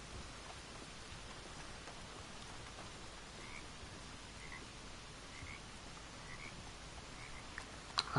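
Steady, soft hiss of rain falling in Red Dead Redemption 2, even and continuous throughout, with faint scattered croaks and chirps in the background.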